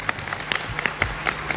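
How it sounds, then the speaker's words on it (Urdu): Brief burst of studio audience applause on a televised Independence Day special transmission, a dense patter of many hands clapping at once, fairly close and loud. "بہت ساری تالیاں ہو جائیں عالیہ کے لیے ایک بار"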